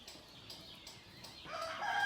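Chickens on a farm with goats and sheep cluck faintly at first, then a louder bout of crowing and clucking builds near the end, with no one talking.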